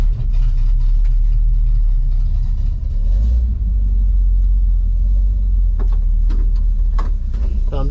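A worn Chevrolet C10 pickup truck drives along on the way to the dump, its engine giving a loud, steady low rumble inside the cab, with a few faint clicks and rattles toward the end.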